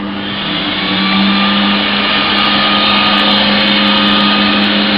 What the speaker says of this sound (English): Now I've got to turn the blower on.